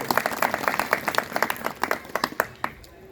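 An audience at a satsang claps to welcome arriving devotees, a brisk burst of many hands clapping close by that thins out and fades toward the end.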